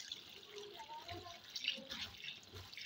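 Cold water poured over drained boiled macaroni in a kitchen, a quiet trickling and dripping splash running throughout at low volume, with faint voice sounds in the background.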